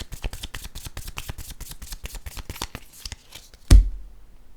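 A deck of tarot cards is shuffled by hand in a fast, steady riffle of crisp flicks lasting several seconds. It ends with one sharp thump as the deck is set down, followed by near silence.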